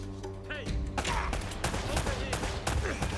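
Rapid gunfire from the video game Uncharted: Drake's Fortune, a dense, loud burst of repeated shots with whizzing effects that fills the whole moment.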